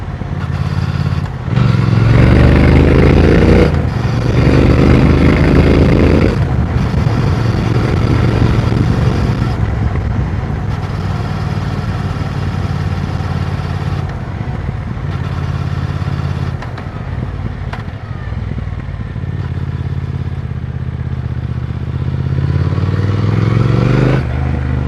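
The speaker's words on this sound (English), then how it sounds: "The bike's fast when you want" A motorcycle on a short ride accelerates through the gears, its engine rising and dropping in pitch with loud revving bursts over wind and road rumble, heard up close from the bike.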